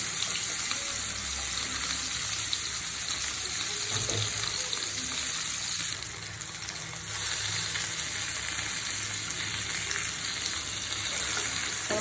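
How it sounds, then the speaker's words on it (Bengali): Pumpkin pieces and tomato frying in oil in a pan make a continuous, even sizzle that lasts throughout and briefly softens about halfway, with no voices. "টমেটোটাও ভাজা হয়ে গেছে, মিষ্টি কুমড়োগুলো ভাজা হয়ে গেছে।"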